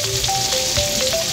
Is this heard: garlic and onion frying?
yes